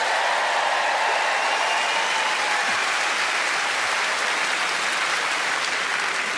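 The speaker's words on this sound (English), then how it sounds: "So just by way of applause, who is actually Scottish?" Full, sustained applause from a comedy-show crowd, a loud continuous wash of many hands clapping with no voices over it.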